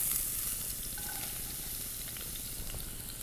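Shallots sauté in a pan with chicken drippings, giving a steady, close sizzling hiss with faint crackles and a soft stirring texture, continuous and fairly loud with no talk.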